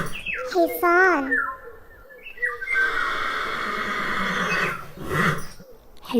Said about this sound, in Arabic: حصان.